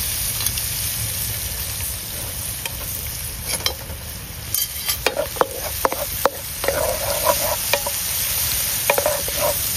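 Chopped onions fry and sizzle in margarine in a pan, a steady crackling hiss with scattered sharp pops and stirring scrapes, close and continuous with no talk.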